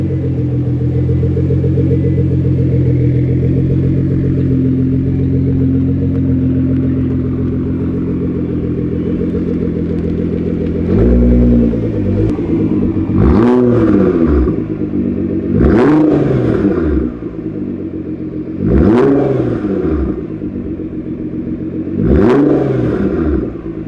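Nissan GT-R with a full tube exhaust at a cold start, first a loud, steady, rumbling high idle, then several sharp rev blips rising and falling in turn, close by.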